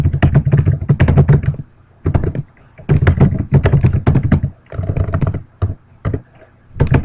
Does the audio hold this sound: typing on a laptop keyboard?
yes